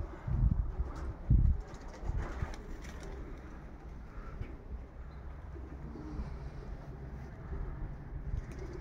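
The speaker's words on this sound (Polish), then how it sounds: "A widać takie spanikowane te gołębie. Jak nerwowo latają." Panicked pigeons flap and scatter nearby, a couple of loud bursts of wingbeats early on, then softer fluttering and faint cooing over steady outdoor background noise.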